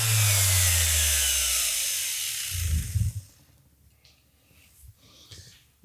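An electric sander works two stacked wooden boards at once, a loud steady whine that winds down over a few seconds, followed by a thump, a clatter and quiet handling noises.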